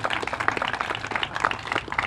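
An audience at a rededication ceremony applauds, a soft, even wash of many hands clapping at moderate distance, brief and without talk.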